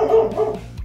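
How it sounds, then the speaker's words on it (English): Dogs barking nearby, a short burst of a couple of close, loud barks that quickly trail off. "Now the dogs have gone off."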